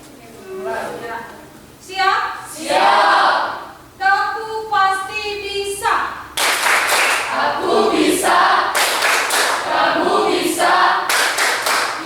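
A classroom of students performs the tepuk pasti clapping chant with their teacher, chanting in unison alongside rhythmic hand claps that grow into sharp, loud bursts in the second half.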